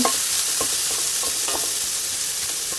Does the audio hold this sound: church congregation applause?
no